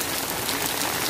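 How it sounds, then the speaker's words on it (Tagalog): Heavy rain pouring steadily onto surfaces on a flooded residential street, a dense, even hiss close by with no pauses and no voices. "dahil nga sa lakas ng ulan"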